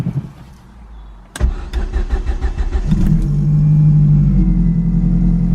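A Ford Focus RS Mk1 with a broken speedometer cranks with rapid chugging bursts, then catches and settles into a steady, loud idle rumble close by.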